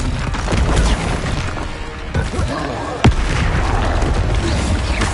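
Confringo fire spell exploding in Hogwarts Legacy, heard as a dense, rumbling roar of blasts with a sharp, loud boom cracking through near the middle.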